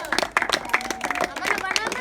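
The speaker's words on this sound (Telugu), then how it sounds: "యశ్వంత్ క్లాప్స్ కదండి." Students at a tuition class farewell day break into a burst of applause for the winner, Yashwanth; several quick rounds of close clapping run under lively voices and crowd chatter.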